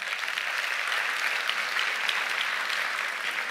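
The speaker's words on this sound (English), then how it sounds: "Please welcome her with a big round of applause." An audience claps steadily and densely, welcoming an FBI special agent to speak at a case study talk, with sustained even applause throughout and no voices.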